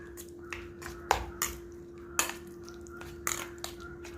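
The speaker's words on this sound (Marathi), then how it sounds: "त्यात आता थोडंसं मीठ, पुन्हा एकदा हलवून घेऊ, मिक्स करू" A spoon clinks against a bowl while curd is stirred with salt, giving about half a dozen light, sharp taps at uneven intervals in a quiet kitchen.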